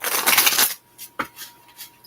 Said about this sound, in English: 4 shuffles here